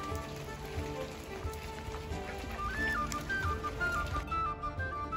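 Light rain falling in a rose garden, a soft continuous patter of drops with faint higher tones drifting through, quiet and steady with no talk.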